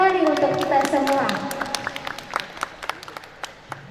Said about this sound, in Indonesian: tepuk tangan yang paling meriah terakhir kali untuk kita semua